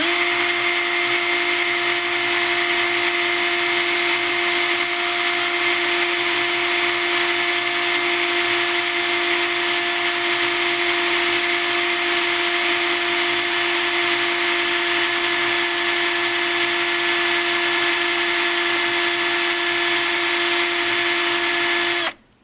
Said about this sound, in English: I'm going to reverse the direction on this drill